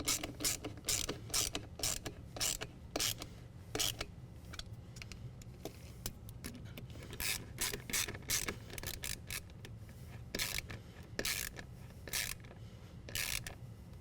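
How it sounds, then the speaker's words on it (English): Band clamps being tightened on an aFe cold air intake balancing tube in a 2015 Ford F-150, heard as quiet rapid ratcheting clicks in short repeated bursts, close but soft, with no talking. "we're going to go ahead and tighten down our band clamps with our balancing tube"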